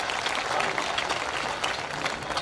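Live audience at a kavi sammelan poetry gathering in Sikar clapping together, a dense, continuous burst of applause throughout.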